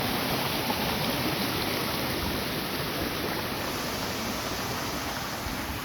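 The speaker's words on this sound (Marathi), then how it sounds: "बाजून पाणी वाहत आहे" Water rushing beside a roadside where soil has slumped, a loud, steady broadband flow, close by and unbroken, with no voices.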